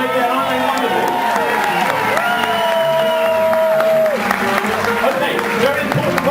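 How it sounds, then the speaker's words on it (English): An audience on a cruise ship cheers and applauds the chef team with loud, sustained clapping and whoops, while a host talks over the noise throughout. "How about a final cheer for the chef team"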